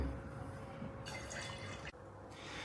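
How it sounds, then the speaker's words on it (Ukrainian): Spirit is poured into watermelon juice to make a watermelon liqueur, giving a faint, steady trickle of liquid filling a jar, with a brief dip in the flow near the end and no talking. "Ну і тепер до соку додаю свій спирт."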